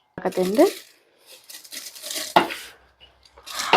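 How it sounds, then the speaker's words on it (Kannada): Roasted North Karnataka masala spice powder poured and scraped into a tin container, with close scraping, rustling and clinking bursts in short uneven spurts, briefly under a voice at the start. "ಈಗ ಈ ಡಬ್ಬಿ ಒಳಗೆ ಹಾಕೊಳಕತ್ತೀನಿ ನೋಡ್ರಿ"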